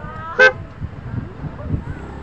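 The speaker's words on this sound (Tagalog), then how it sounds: "sound check muna natin itong ating bagong G-Star Horn" A single short, loud horn blast sounds near the start, followed by low engine and background noise.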